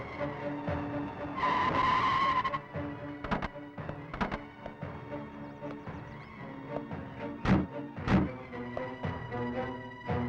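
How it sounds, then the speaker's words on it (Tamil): A vehicle brakes to a stop in a Tamil movie scene, with a drawn-out tire screech followed by engine rumble and a few sharp thuds, loud and close. "நிறுத்த வண்டிய."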